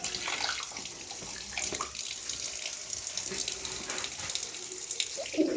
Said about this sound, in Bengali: কলটা বন্ধ করি